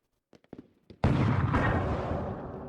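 Machine gun fire in the Lock and Load Tactical Digital wargame opens with a few faint clicks, then a loud sustained roar of gunfire bursts in and carries on, fading slightly toward the end.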